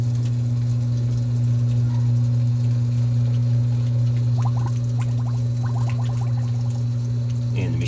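GE washing machine on its drain and spin setting, a steady low motor or pump hum with water gurgling and splashing as it drains, loud and continuous, with faint clicking in the latter half.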